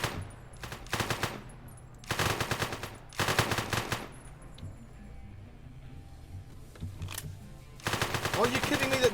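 Bursts of rapid automatic gunfire from the video game One Armed Robber, loud volleys in four main clusters separated by quieter gaps with low background rumble and faint voice.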